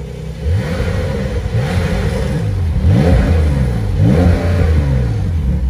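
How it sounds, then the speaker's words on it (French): A warm Porsche 992 Carrera S Cabriolet with a flat-six biturbo engine is revved while parked, with its revs capped at standstill. It gives a series of about five loud, close throttle blips, each climbing and falling back over a steady idle. "le bruit de ce flat 6"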